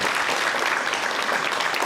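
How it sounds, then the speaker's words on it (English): Audience applause at a guide dog graduation ceremony for volunteers, a dense, steady wash of many hands clapping that fills the whole stretch at an even level. "So a round of applause for all of our volunteers"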